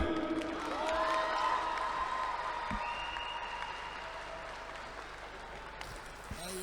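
Crowd applause and cheering after a debut fight win, a sustained wash of clapping at moderate distance with a voice speaking over it.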